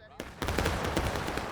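Musket fire rattles in the game War of Rights as a dense volley of overlapping shots, loud and close, breaking in after a brief quiet start and continuing for the rest of the short burst.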